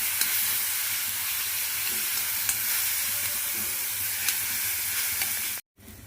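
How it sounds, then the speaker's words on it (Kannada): Cashews and almonds fry in ghee, a loud, close, continuous sizzle with a few sharp pops that stops abruptly near the end. "ತುಪ್ಪದೊಳಗೆ ಏನದ ಒಂಚೂರು ಹುರ್ಕೊಳ್ಳೋಣ. ಇವು ನೋಡ್ರಿ, ಗೋಡಂಬಿ ಬಾದಾಮಿ ಕೆಂಪಾಗ್ಯಾವ."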